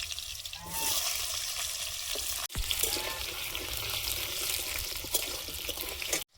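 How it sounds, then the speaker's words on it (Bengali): Potatoes frying in mustard oil in a wok give a steady, close hiss and crackle with a short break partway through. "কড়াইতে দিয়ে দিচ্ছি সর্ষের তেল প্রথমে দেব আলু"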